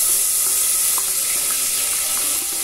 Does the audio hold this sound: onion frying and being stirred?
yes